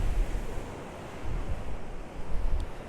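Lake waves wash ashore at Lake Garda, a continuous rushing broadband wash with gentle surges, mixed with wind noise on the microphone and no voices.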